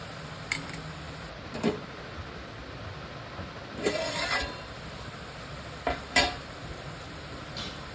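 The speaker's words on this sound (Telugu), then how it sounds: "ఇంకా కొంచెం మగ్గాలి. ఇంకొద్దిసేపు ఫ్రై చేసుకుందాం." Onions frying in a pan as they turn golden brown: a low, steady sizzle with a few short scraping stirs of a spatula scattered through it, close and quiet, with no talking.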